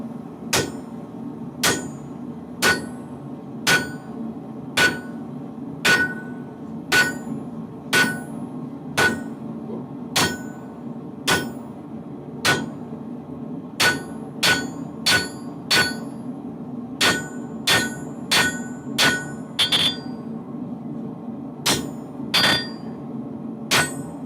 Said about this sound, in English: what you just saw was basically me counter hammering